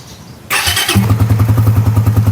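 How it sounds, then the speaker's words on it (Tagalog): A Suzuki Raider R150 FI motorcycle cranks with a whirring starter, catches, and settles into a loud, close, steady pulsing idle. "kailangan muna nating paandarin ang ating motor at painitin ng konti ang langis na nasa loob nito."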